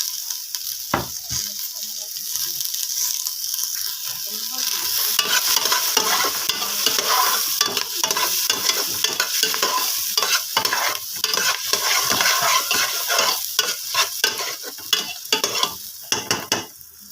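Ginger, garlic and red onion sauté in a pan for adobong pork pata, giving a steady close sizzle with frequent scraping stirs that grow busier partway through.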